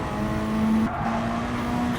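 Race cars roar together through a Gran Turismo Sport race, with a steady, loud engine drone, a whining high tone, and a sustained tire squeal that briefly dips before resuming.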